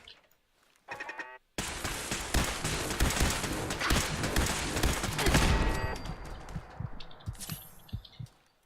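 Automated turrets in Fallout 4 open up in a sustained burst of rapid gunfire after a brief quiet start, loud and dense for several seconds before thinning into scattered shots and clatter.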